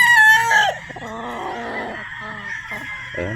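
A Sweater Boston gamefowl rooster on a game farm in Batangas crows loudly and close, a drawn-out harsh call followed by lower clucking and another rooster's fainter call in the background.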